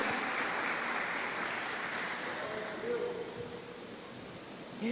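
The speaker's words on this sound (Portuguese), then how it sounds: "Você pode aplaudir Jesus mais uma vez." A church congregation applauding during a worship seminar: a steady wash of clapping that fills the whole clip at a moderate level, with faint sustained tones beneath it and a brief voice near the end.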